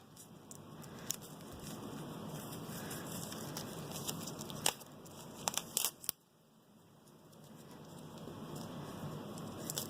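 Wash-away stabilizer and Scotch tape are peeled off an in-the-hoop embroidered stuffed bunny head, making soft close crinkling and tearing rustles with a few sharper rips around the middle, then the sound thins into quiet.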